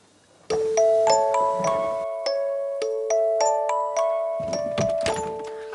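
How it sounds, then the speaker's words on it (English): A doorbell chimes a sequence of bright, ringing tones, each note sustaining and overlapping the next, fairly loud and close with a faint clunk underneath. "When the doorbell rings."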